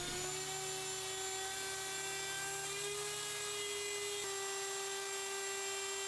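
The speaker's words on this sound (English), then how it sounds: "Here you can see me routing a 1/8 of an inch mortise." A router cuts a 1/8-inch mortise in a Roubo workbench. Its high, steady motor whine holds at a constant pitch, with a small shift partway through, heard alone and fairly faint.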